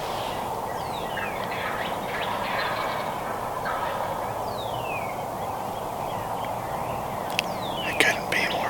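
Wild turkeys gobble in a grass field near a roost, several bursts carrying from a distance over a steady background hiss, with a louder cluster of gobbles near the end.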